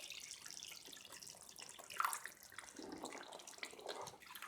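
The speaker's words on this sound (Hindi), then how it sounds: "पानी इसमें मैं ऐड करती हूँ ताकि शोरबा ज़रा पतला हो जाए" Water poured from a vessel into a pot of thick mutton and potato curry, a steady splashing pour of liquid with broadband hiss, close and moderately loud with no talk.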